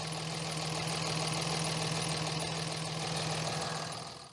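A pickup truck engine idles steadily after an exhaust repair, a constant low rumble with a firm, even pulse held close and loud for about four seconds before it fades, with no voices.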